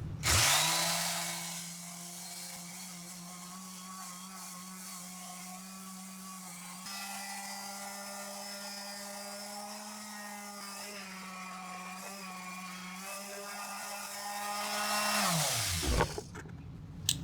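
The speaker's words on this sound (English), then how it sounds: "We'll start out with the random Orbit sander." A Prostormer 5-inch random orbital sander runs steadily for about fifteen seconds with a loud, constant motor whine and sanding hiss, starting up and then winding down at the end, with no talking.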